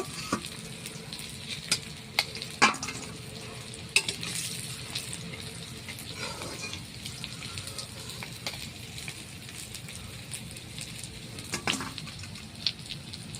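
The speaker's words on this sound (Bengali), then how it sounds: "দেখো মাছটা ভাজা হয়ে গেছে প্রায়।" Fish fries in a pan with a soft continuous sizzle, broken by sharp crackles and pops, heard close and fairly quiet.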